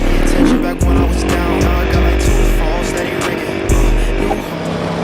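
A BMW S1000RR and a Kawasaki Ninja sport bike rev up close by, loud engine tones rising and dropping in repeated bursts as people talk over them.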